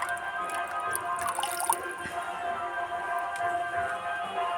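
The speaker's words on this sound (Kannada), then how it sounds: "ಅಷ್ಟು ದೊಡ್ಡ ಪ್ರಮಾಣದಲ್ಲಿ ನೀರು ಹರಿದು ಬರ್ತಾ ಇದೆ" Natural spring water flows out of a cave, a steady close trickle with dripping and splashing that runs unbroken for several seconds, with no voices.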